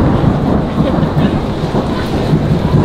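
Thunder sound played as a prank, a loud, steady deep rumble with rain-like hiss running through the whole stretch, close and without talk.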